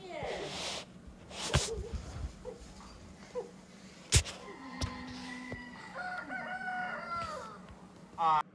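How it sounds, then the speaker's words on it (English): A rooster crows in a Chinese setting, with several drawn-out crowing calls and some clucking. Loud voices and other sharp noises overlap the calls. "A rooster?"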